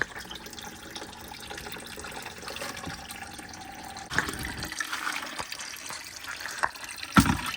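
Coolant gurgles and trickles steadily from a Lexus LS430 radiator with the cap off, with occasional splashes and clanks, a continuous draining flow heard close by.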